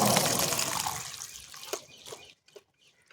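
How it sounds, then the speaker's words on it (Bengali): Cooked green peas drained through a strainer, water pouring and splashing loudly at first, then thinning to a trickle and a few last drips before going quiet. "এখন আরেকবার এই জলটা ছেঁকে নিচ্ছি।"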